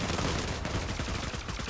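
Rapid burst fire from an M4 rifle in the video game Zula, a short dense rattle of shots, fairly quiet and heard on its own.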